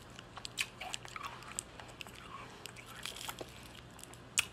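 Someone eats a Skittles ice pop, giving soft, close, scattered bites and wet chewing crunches over a few seconds, with a few sharper crackles and no talking.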